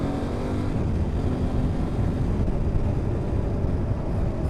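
An Aprilia Tuareg 660 mid-size adventure motorcycle engine pulls under acceleration in third gear, a steady, loud, close drone with wind rush that holds throughout without pause.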